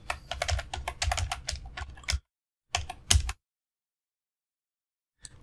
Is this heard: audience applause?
no